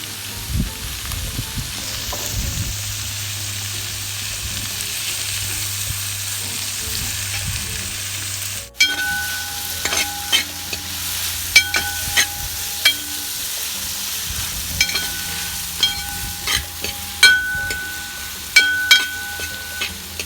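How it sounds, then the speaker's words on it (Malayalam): Green chilli and onion sautéing in a pan, a constant frying sizzle that turns louder and crisper partway through, punctuated by repeated sharp scrapes and clanks of stirring against the pan. "നമുക്കൊരു പച്ചമുളക് അതിൻ്റെ കൂടെ തന്നെ ഒന്ന് നമുക്ക് വഴറ്റിയെടുക്കാം."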